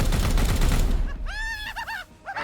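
Rapid game gunfire fired at an enemy knight, a dense crackling burst up front that gives way to bright tonal chimes and effects.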